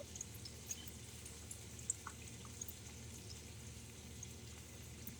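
Mushrooms fry in oil in a small cooking appliance, giving a steady, soft sizzle with faint crackles and occasional small pops, close and quiet, with no one talking.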